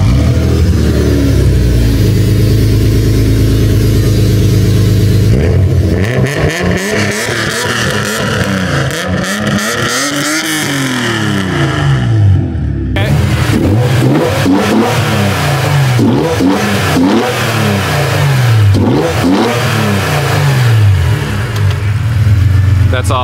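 A BMW E46 M3 with 6-to-1 headers revs loudly and repeatedly up close, its engine note rising and falling in sharp, rhythmic bursts over a steady idle, with a brief pause midway before more blips.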